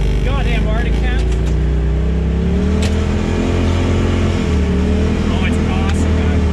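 A side-by-side UTV engine runs steadily on a snowy trail, a loud continuous drone with rising and falling revs throughout, wind rumble underneath and a person talking over it.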